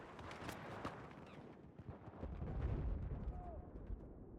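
An incendiary grenade burns in a Battlefield 4 multiplayer match, a low rumbling roar of fire that swells midway through, set among scattered distant gunfire and explosion cracks.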